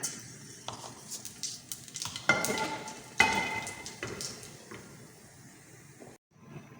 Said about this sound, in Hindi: ज़ीरे का बघार करेंगे, आधी चमची ज़ीरा